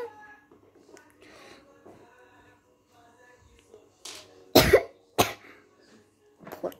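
Cartoon character coughing from a portal: a few soft sounds first, then several loud, sharp cough bursts close together near the end.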